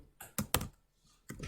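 Quick, sharp keystrokes on a computer keyboard while entering data in Excel, a few crisp taps in two short bursts separated by a pause, close and fairly quiet.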